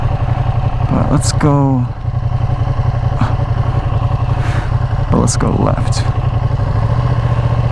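A rare Ducati motorcycle being broken in runs with a steady, close mechanical engine drone throughout, while the rider talks over it.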